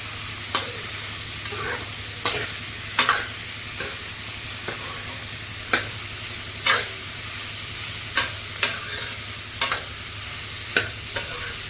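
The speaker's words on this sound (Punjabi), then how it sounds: "ਇਸ ਤਰ੍ਹਾਂ ਸਾਰਾ ਇਦਾਂ ਫਰਾਈ ਕਰ ਲਾਂਗੇ ਹਲਕਾ ਹਲਕਾ ਭੁੰਨ ਲਾਵਾਂਗੇ" Pumpkin being lightly stir-fried in a pan on a gas stove, with sharp spatula scrapes and stirs roughly once every second over a steady low sizzle and hum. Close and clear, with no voices.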